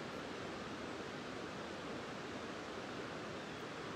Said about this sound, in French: écouter le son de cette magnifique rivière